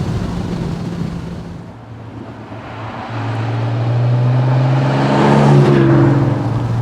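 A TVR Tamora's engine and standard exhaust drone steadily while driving, building and rising in pitch toward the end with wind rushing over the microphone.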